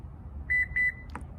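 Four quick, clear electronic beeps from a 2021–2022 Lexus RX power back door confirm its memory setting, followed by a faint click, all close by over a soft low hum.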